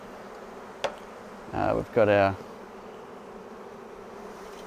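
Honey bees at an open hive being smoked and brushed down into the box for spring: a steady, diffuse buzzing hum runs throughout, with a brief stretch of close talking in the middle.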